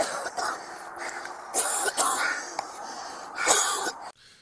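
Several people cough repeatedly in recorded police footage of a police incident, with harsh, wheezy bursts and throat clearing coming in irregular clusters at close range.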